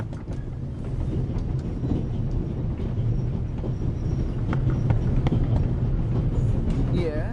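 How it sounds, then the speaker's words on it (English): A continuous low rumble fills a carriage of the Orient Express in a video game, with scattered clicks and rattles over the rolling noise; a voice speaks faintly under it. "The noise on this train is driving me crazy."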